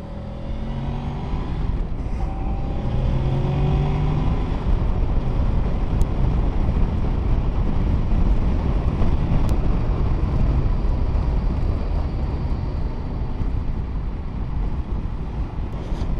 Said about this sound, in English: we'll try the little dual carriageway up here just to try some wind noise